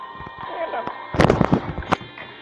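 A video game bomb bursts with a loud crackling blast that erupts suddenly and then ends in a final sharp crack, over a humming game soundtrack while players talk.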